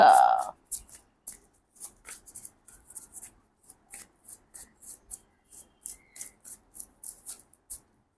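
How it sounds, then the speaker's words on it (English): Tarot cards riffle and slap in quick repeated bursts, a steady rhythmic shuffling close by, with a brief voice at the start. "Let's give this deck a really good shuffle"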